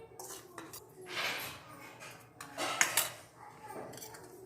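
Powdered sugar batter being mixed in a bowl, with a spoon scraping and clinking against the sides in uneven bursts, moderately close and fairly quiet.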